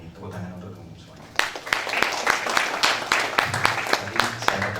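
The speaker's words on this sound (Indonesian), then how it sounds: "Tepuk tangan untuk teman-teman semuanya." Audience applause breaks out at a school literacy seminar and book discussion, a dense burst of many hands clapping that starts after a quiet moment and keeps going steadily at full strength to the end.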